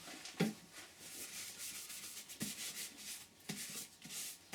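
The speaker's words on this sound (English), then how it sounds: "So we'll get all this sanding sealer on" Soft, steady rubbing of cloth applying sanding sealer over a turned sycamore wing bowl, close and fairly quiet, with a few light knocks as the strokes continue.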